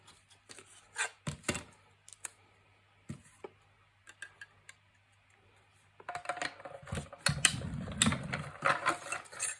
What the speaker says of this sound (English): And whilst I've got my machine here, I'm going to cut a couple of circles.